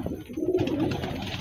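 A pigeon coos nearby in a low, soft, rolling murmur that swells and holds for about a second.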